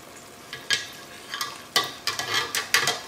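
Pasta sauce with tomatoes and green peppers is stirred in a pan, giving repeated clattering scrapes and spoon knocks in uneven bursts over a low sizzle, close by and with no voices.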